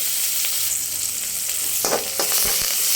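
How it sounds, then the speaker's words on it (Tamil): Green chilies, curry leaves and onion sauté in hot oil for a cabbage poriyal, giving a steady close sizzle broken by a few sharp stirring clicks. "பச்சை மிளகா கருவேப்பிலை வெங்காயம் போட்டு நம்ம நல்லா வதக்கிக்கலாம்"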